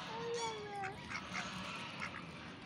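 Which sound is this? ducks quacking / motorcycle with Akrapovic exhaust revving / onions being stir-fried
ducks quacking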